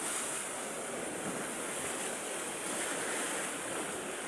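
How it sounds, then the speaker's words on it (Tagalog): Strong ocean waves surging against a seawall make a continuous, broad roar of surf and spray, with wind buffeting close to the microphone and no distinct individual crashes. "Sobrang lakas ng alon. Tulad nito oh."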